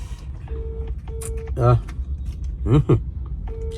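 Short keypad tones beep in a quick sequence, interrupted by bursts of nearby talk, with a low hum of background noise underneath.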